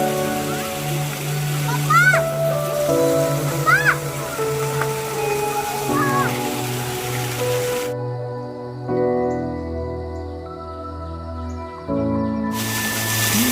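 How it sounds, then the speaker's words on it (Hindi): A small waterfall inside a bird sanctuary in Chandigarh gives a steady rushing hiss of water in the background, with people talking over it throughout and a brief cut partway. "छोटा सा झरना।"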